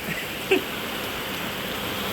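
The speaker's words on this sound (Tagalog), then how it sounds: "February 14 po ngayon kasi umuulan po ngayon." Rain falls steadily and fairly close by as an even, continuous hiss, with one soft tap early on. No voices are heard.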